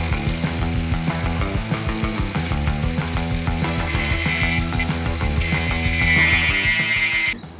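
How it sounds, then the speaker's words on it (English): An angle grinder fitted with a slitting disc cuts during a narrowboat cafe build, a loud, steady, buzzing whine running close and continuous before stopping abruptly. "we're going to get the angle grinder out with a slitting disc in it"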